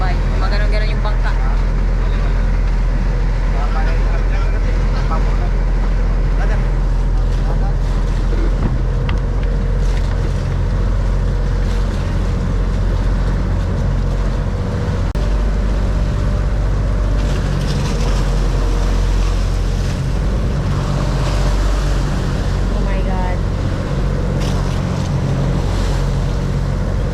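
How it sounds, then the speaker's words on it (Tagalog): A boat pounds through big waves at sea, with loud continuous engine rumble, water rush and wind buffeting the microphone throughout, and voices mixed in under the noise. "dito banda talaga malaki talaga yung alon dito."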